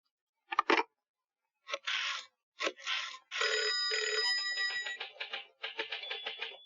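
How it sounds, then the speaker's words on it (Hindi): A telephone rings in a series of bursts, a few short separated rings followed by a longer continuous jangling stretch, fairly loud and close with no talk over it, set in a Hindi film scene. "एक फोन तिवाड़ी को हो जाए"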